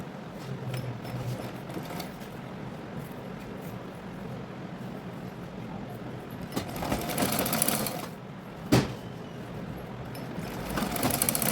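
A sewing machine stitches tucks into a blouse, its fast steady whirr running continuously at moderate level, briefly swelling louder midway and punctuated by one sharp click near the end.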